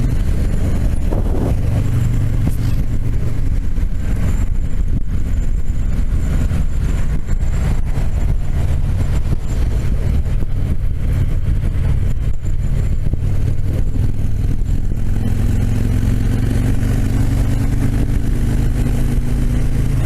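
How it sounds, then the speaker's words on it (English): Stock exhaust pipes on a motorbike-like engine burbling steadily and close, a deep low rumble that swells and settles with light throttle changes across the whole stretch, no talking. "So it does sound absolutely amazing. This burble, burble, burble."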